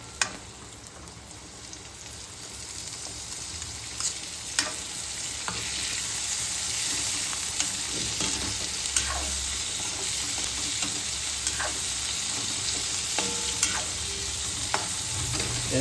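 Vegetables with capsicum sizzle and fry in a pan for Hakka noodles. A spatula scrapes and stirs them now and then, adding soft clicks over the steady crackle, and no one speaks.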